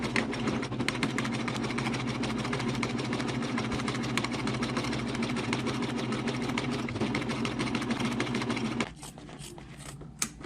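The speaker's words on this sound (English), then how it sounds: "I'm going to start serging" A Pfaff Admire Air 7000 serger runs continuously while stitching a Christmas tree napkin, a loud, fast, even mechanical chatter that stops abruptly near the end, leaving a quieter room with a faint click.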